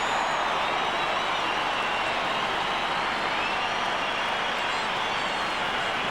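A big stadium crowd at an AFL match between the Kangaroos and Port Adelaide roars for a goal, a dense, sustained wall of cheering that stays loud from start to finish.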